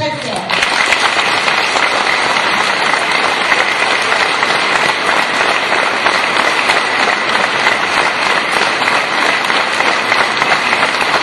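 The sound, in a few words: audience applauding loudly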